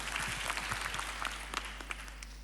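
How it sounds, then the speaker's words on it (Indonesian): A church congregation claps and applauds during a worship service, a dense, fairly faint wash of many hands with a few sharper claps standing out, steady for a couple of seconds. "Tepuk tangannya lebih meriah lagi"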